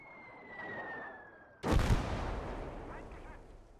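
A 37 mm gun fires in the video game Gates of Hell, with one loud, sharp blast that cuts off a faint whine. A rumbling, noisy tail follows as the sound dies away.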